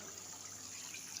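Water being drained off boiled rice while cooking biryani, a steady close-up splashing hiss of liquid pouring out, continuous and fairly quiet throughout the brief moment.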